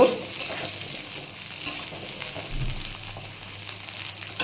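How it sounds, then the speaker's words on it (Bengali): Potatoes fry in a pan ahead of a papaya curry, with a low, continuous sizzle and occasional faint stirring scrapes. "আলুগুলো একটু লাল লাল করে ভেজে নিই।"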